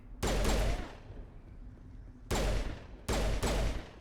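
Loud bursts of automatic gunfire from a Mass Effect Legendary Edition firefight: one long volley, a pause with faint rumbling echoes, then two more sharp bursts close together near the end.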